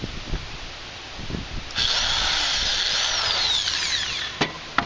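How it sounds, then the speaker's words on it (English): A power drill bores a hole into a Gold Cube for its trommel support rods, with a steady high whine for a few seconds after some handling knocks and clicks. "So we're gonna drill one side."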